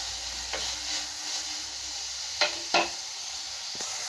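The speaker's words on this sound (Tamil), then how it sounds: "சால்ட்டை போட்டு வதக்கி விடலாங்க." Tomatoes sautéed with salt in a pan sizzle steadily up close, with a few sharp stirring scrapes standing out over the hiss.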